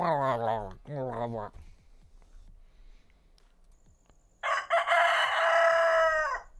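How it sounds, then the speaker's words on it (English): A rooster in Palworld crowing, two drawn-out tonal calls at the start and then a loud, raspy sustained crow after a pause, heard clearly and close up. "And that's chicken. Well, that's a rooster,"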